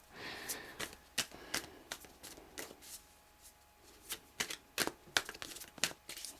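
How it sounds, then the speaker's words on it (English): Cards are shuffled in quick, irregular bursts of riffling and slapping, close up, with brief pauses between the flurries. "So I'll do a couple more shuffles and then I'll choose your cards."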